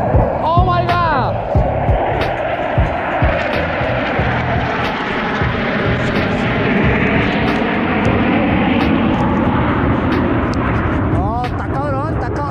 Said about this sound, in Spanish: Una cantidad de aviones de esos que van a toda